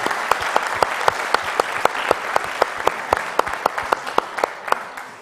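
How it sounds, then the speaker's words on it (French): Sustained audience applause at an entrepreneurs' award ceremony honouring a luggage-service company founder: dense, steady clapping with regular sharp accents, moderately loud and continuous throughout. "Encore un tonnerre d'applaudissements"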